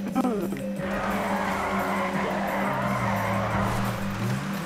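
Tires squeal continuously as a car drifts in a racing video game, with engine drone running steadily underneath the skid.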